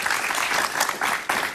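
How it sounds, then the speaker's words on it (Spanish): Studio audience applause on a Spanish-language talk show, a dense burst of clapping from many hands, loud and steady throughout with no speech over it. "Un aplauso para él, por favor."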